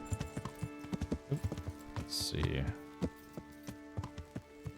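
Horse hooves clip-clop in Kingdom Come: Deliverance, a steady trotting rhythm slowing toward a stop, with a brief rustling burst midway and someone speaking over it.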